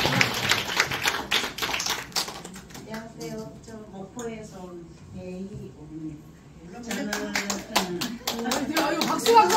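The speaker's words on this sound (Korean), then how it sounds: "아이고 박수" Sharp clapping from a small group at a Korean diet club kickoff with laughter-therapy flavor, bursts at the start and end framing a stretch where a person speaks.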